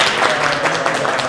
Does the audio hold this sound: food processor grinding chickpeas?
no